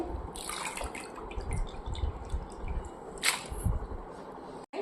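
Thin potato chip slices are swished and rinsed by hand in a bowl of clean water, giving wet sloshing, squelching and dripping sounds close up, with a brief louder splash partway through.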